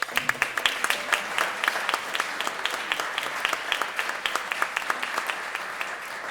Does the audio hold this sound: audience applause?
yes